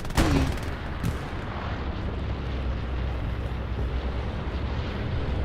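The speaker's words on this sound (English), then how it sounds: "Okay, bombing run potentially. Yes, this is the last bombing run." A bombing run in Hell Let Loose opens with a sharp, heavy blast, then a second hit, followed by a continuous distant roar of rumbling explosions that fills the rest of the moment.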